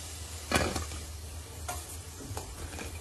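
Potatoes frying in oil in a wok give a soft steady sizzle, broken by a few sharp stirring clinks and scrapes close by, with no talk.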